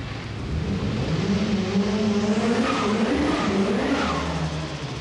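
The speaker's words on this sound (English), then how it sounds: "as you've probably gathered from that chirpy noise, it has an aviary under the bonnet, plus an absolutely enormous turbocharger" A 1995 Peugeot 306 rally car with an enormous turbocharger rolls forward in an arena, its engine note rising and falling steadily for about five seconds, loud and close, with a bright chirpy edge over the rasp.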